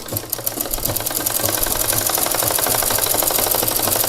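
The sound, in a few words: sewing machine stitching a petticoat hem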